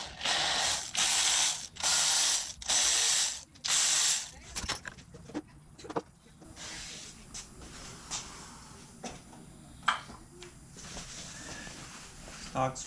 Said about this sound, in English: we're just gonna yank the valve cover off of this guy and figure out what's underneath it